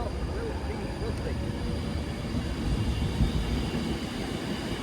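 Train on the West Coast Main Line at Stoke-on-Trent departing towards London Euston: a continuous, loud rumble of passing rail wagons and traction noise with a high steady tone above it, with voices faintly mixed in underneath.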